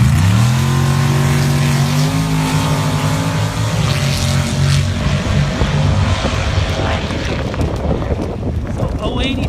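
Pro Bracket drag race cars launch side by side at an SCSDA April Fuels elimination, a loud roaring pair of engines whose pitch climbs steadily before dissolving into a dense, continuous rumble.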